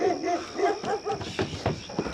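A dog barks in the background of a noisy outdoor scene at a trailer park, with short irregular yelps and whimpers mixed among other sounds, moderately close.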